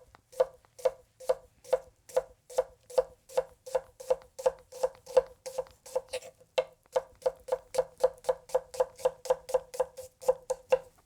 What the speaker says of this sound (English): Why am I julienning onion with a tiny little blade?